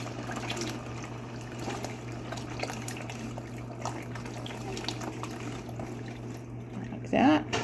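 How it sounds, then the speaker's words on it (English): A quart of chicken stock poured into a soup pot for French onion soup makes a steady, close liquid stream and trickle, with a louder splash near the end. "And then I'm going to add 1 quart of chicken stock."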